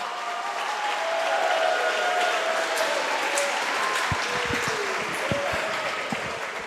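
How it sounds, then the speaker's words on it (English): Sustained, steady crowd applause fills a school gym at a high school wrestling senior night, honoring the senior class; dense clapping holds evenly throughout with no talk. "let's have a big round of applause for our 2022-23 Maroon Devil senior class"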